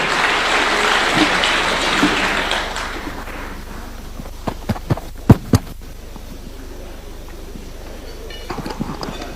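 A crowd at a State House Iftar gathering applauds loudly for a couple of seconds after a presidential speech, then the clapping fades out, leaving a few scattered sharp knocks and quiet room noise.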